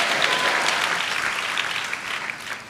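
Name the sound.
congregation applauding loudly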